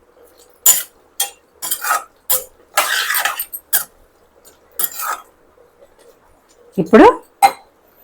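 A utensil stirs bitter gourd curry in a metal pan in brief, separate bursts of scraping and clinking, close by, with someone talking in between.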